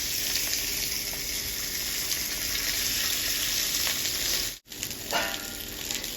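Hilsa fish pieces fry in hot mustard oil with a steady, close, bubbling sizzle that cuts out for a moment and then comes back.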